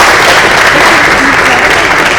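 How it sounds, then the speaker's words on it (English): Dense, loud audience applause at a keynote talk at an education event, continuous close clapping filling the whole moment. "Can I have a round of applause? Please keep going on."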